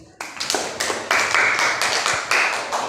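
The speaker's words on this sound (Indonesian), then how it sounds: "Tepuk tangan dulu." Classmates in a school classroom clap for a group after its presentation, a brief burst of close, fairly loud hand claps that runs steadily for a few seconds with scattered individual slaps.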